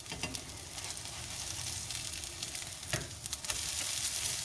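Mashed potato cakes frying in a pan, a continuous soft sizzle and crackle with occasional louder pops, heard alone at a moderate distance.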